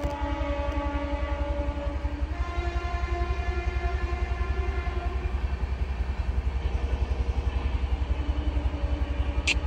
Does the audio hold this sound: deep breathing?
no